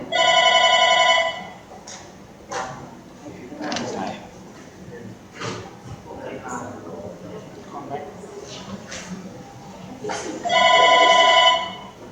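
A VoIP desk phone rings on a redial call, two bright electronic ring bursts at the start and end with speech in between.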